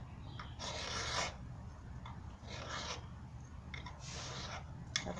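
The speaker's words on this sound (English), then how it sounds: "likes the sound of the ferro rod scratching anyway" A ferro rod being scraped with a striker gives three slow, rasping scratches, close and fairly loud, each lasting about half a second, with a brief extra scrape near the end and no talking.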